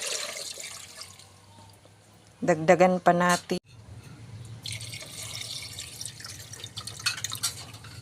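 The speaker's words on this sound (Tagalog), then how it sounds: "lagyan natin ng tubig" Two cups of water poured into a cooking pot of Filipino ulam, heard as a steady splashing rush following a short stretch of talk, with quieter kitchen background noise around it.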